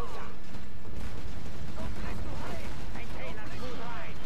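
Rapid gunfire bursts from a Gatling gun in a tank video game, cutting through dense battle noise with explosions and booming artillery, overlapped by talk.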